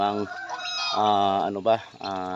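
Geese kept in a small backyard flock honk at close range. Loud, nasal calls repeat in quick succession with brief breaks between them.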